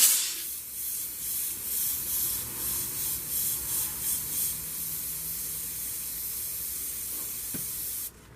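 A steady, close airbrush hiss sprays continuously through a piece of stencil material to make a gravel texture, with faint pulsing bursts early on and a short click near the end before it cuts off.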